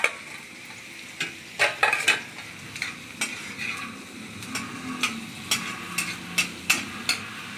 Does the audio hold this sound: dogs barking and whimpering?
no